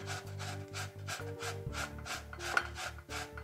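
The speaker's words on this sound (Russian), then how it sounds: "Возьмем терку и натрем кабачки на мелкой терке." Zucchini rubbed against a fine kitchen grater in rhythmic back-and-forth strokes, about eight rasping passes, close and fairly quiet with no talk.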